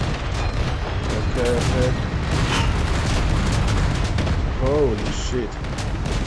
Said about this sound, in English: A lot of shots coming from everywhere.